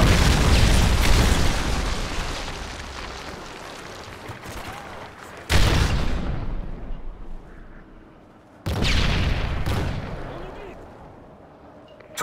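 Three heavy Predator missile blasts from Modern Warfare 3 gameplay, each a sudden loud boom with a long rumbling decay, the first already roaring at the start and the others striking about three seconds apart.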